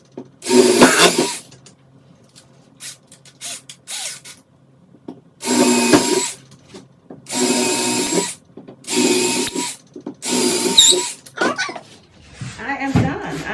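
A power drill bores a series of small holes into scrap wood for a screwdriver holder, heard close and loud as about six separate whining bursts, each a second or two long, with short pauses between them.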